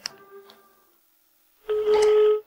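A telephone being dialed gives a short electronic key beep, then a pause and a longer, louder tone, close and clear in a quiet room.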